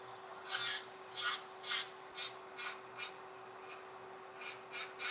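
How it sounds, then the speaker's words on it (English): Repeated rasping strokes of a nail file shaping the side of an acrylic nail during a French hybrid nail set, about ten short, even, close-up passes in a steady rhythm with no talking. "And if you see how I'm filing on the side here"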